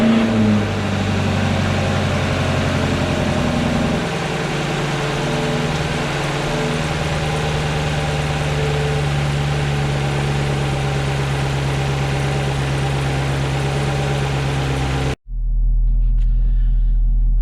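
A 6th gen Camaro V8 fitted with a C8 LT2 intake manifold idles steadily after startup, its deep rumble close and constant with a slight settling of pitch, then it stops abruptly near the end.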